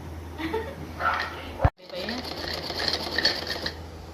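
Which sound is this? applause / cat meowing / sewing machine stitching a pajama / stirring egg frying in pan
sewing machine stitching a pajama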